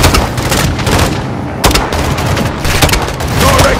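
Launcher blasts and rapid gunfire in Call of Duty Modern Warfare during the Saving Laswell mission in Urzikstan, a loud continuous barrage of shots and booming explosions close by.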